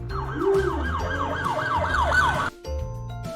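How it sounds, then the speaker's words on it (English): A police car siren wails with a rapid rising and falling yelp, loud and steady over a low engine rumble, then cuts off briefly near the end. "police car,"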